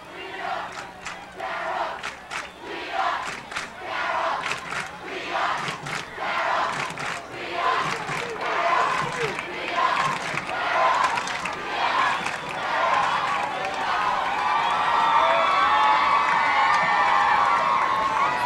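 A high school football crowd at the 1988 Philadelphia Catholic League championship between Ryan and its rival roars and chants in rhythmic bursts of shouting. The cheering is sustained and loud, swelling into a broad, steady din toward the end.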